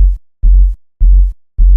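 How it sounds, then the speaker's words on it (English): Deep bass drum from a song thumping on every beat, four heavy sustained low hits evenly spaced with short gaps, loud and close with nothing else playing. "The first one is this bass drum that's going to sound like this"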